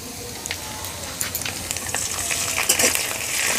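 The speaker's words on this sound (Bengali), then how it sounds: "এখন আবারও পেঁয়াজটা ফ্রাই হবে আদার সাথে।" Onion and ginger fry with garam masala paste for a flattened-rice pulao, making a bright, continuous crackling sizzle. Sharp pops and stirring scrapes grow busier toward the end.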